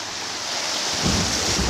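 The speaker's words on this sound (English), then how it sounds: "Splash!" Wind-buffeted rushing water as a boat crosses over a rocky ledge on Antietam Creek, a dense splashing roar that swells louder toward the end with no talking.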